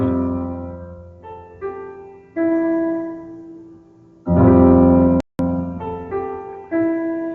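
Piano chords from Silent Night played slowly one after another, each ringing out and fading, with a louder swell near the middle and a brief silence.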